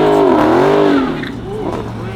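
Buick Grand National engine revving loudly and rising in pitch during a spin, then dropping back to a steady idle-like drone, heard up close from inside the classic car.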